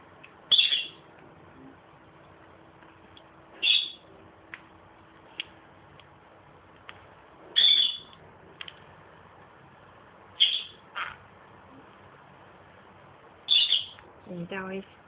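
A pet bird gives short, sharp chirps during trick training, about five evenly spaced calls with a soft tick between them, close and clear in a quiet room.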